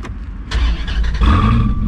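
A V10 supercar with its factory exhaust fires up with a sharp crank burst, then settles into a loud, deep, rumbling idle that swells as the revs climb, heard up close.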